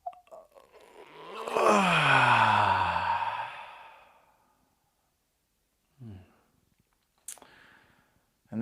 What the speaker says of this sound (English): Let's all just try yawning.